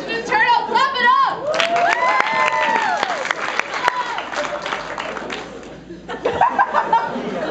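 Improv comedy audience clapping and cheering after a silent scene, with laughter mixed into the crowd noise that rises and fades.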